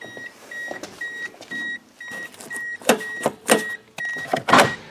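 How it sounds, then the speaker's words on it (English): A 2005 Toyota Echo sounds a repeated electronic warning beep in a steady on-off rhythm, close by, joined by louder mechanical clunks and whirs toward the end. "Damn Toyotas with that crazy beeping."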